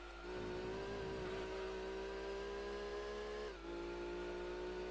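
Race car engine in Gran Turismo 2 on the Laguna Seca circuit: a steady, high-pitched engine drone holding near-constant revs, with a brief dip around a gear change, fairly faint and alone without talk.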